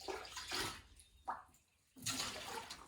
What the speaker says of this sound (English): So we're just going to be bailing it out, old school style.